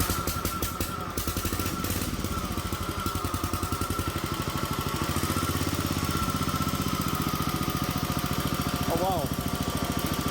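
The engine of a 1968 Sears Super 12 garden tractor under restoration cranks and catches within the first second, then runs with a fast, even, close-up chugging. A man briefly exclaims over it.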